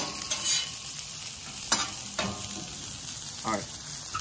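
Cakes sizzling on a hot griddle with oil, a steady close crackling hiss broken by a few brief louder spatters and scraping sounds.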